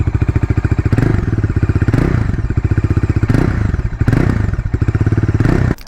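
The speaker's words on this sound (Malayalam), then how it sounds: "അപ്പോൾ ഇതാണ് വണ്ടിയുടെ ഐഡിൽ സൗണ്ട് എന്ന് പറയുന്നത്" A 2025 Bajaj Dominar 400, a 400cc motorcycle, idles up close with a loud, steady, deep, bassy thumping pulse that barely wavers for the whole stretch.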